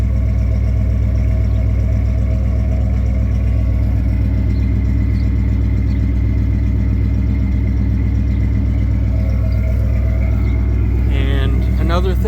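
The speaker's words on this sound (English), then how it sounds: "It's true duals all the way back with the H-pipe in between. I think that just has the proper 80s sound with the Flowmaster 40 series." A V8 in a 1986 Ford Bronco II with true dual exhaust, an H-pipe and Flowmaster 40 series mufflers idles with a loud, deep, steady rumble close by, and a voice talks over it.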